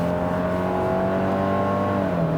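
A 2019 Subaru Forester Touring crossover with a non-turbo engine accelerating hard, a steady engine drone rising slightly in pitch, heard from inside the cabin with no talking.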